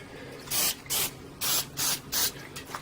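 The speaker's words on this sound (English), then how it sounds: "so I'm going to put a little spray on it" Five short hissing bursts from a can of spray adhesive applied to a tarp, evenly spaced with brief pauses between them, close and fairly loud.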